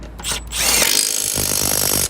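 A Milwaukee M12 cordless impact wrench with a 9/16 impact socket, removing a stuck Craftsman mower blade, fires a rapid, rattling hammering burst for about two seconds, loud and close, after a short whir of startup.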